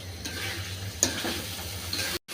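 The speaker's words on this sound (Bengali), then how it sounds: "1 মিনিট পর্যন্ত আমি কষিয়ে নেব।" Mustard, poppy seed and green chilli paste with spices frying in a pan, a continuous close sizzle with a sharp stir scrape and a brief dropout near the end.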